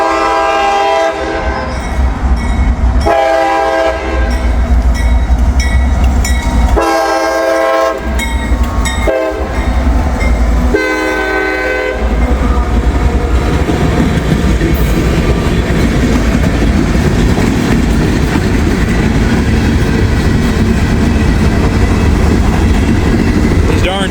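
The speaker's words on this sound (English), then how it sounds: "Right now we got a CSX train coming down the line here." A CSX freight train with slab cars up front rumbles past loudly as its horn blasts in several long and short blows, followed by the continuous roar and clatter of rolling cars.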